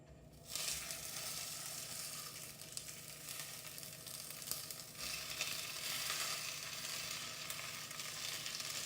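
Kerala ada batter sizzling on an oiled pan, a steady close frying hiss that starts abruptly after a brief quiet moment and carries on evenly to the end with no voices.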